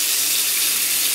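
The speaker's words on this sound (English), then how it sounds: "So definitely run your water" Tap water runs steadily into a sink to fill a hot dye bath, a constant close hiss with no pauses, fairly loud and without voices.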